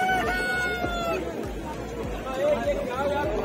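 Chickens cluck and a rooster crows amid busy crowd chatter, with people talking nearby in a noisy outdoor chicken market in Lucknow, India.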